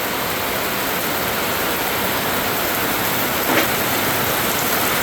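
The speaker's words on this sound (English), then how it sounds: "Welcome to the rainy season in" Heavy rain pours steadily during the rainy season in Managua, Nicaragua, a dense unbroken hiss with a slight swell near the middle, loud and close with no talking.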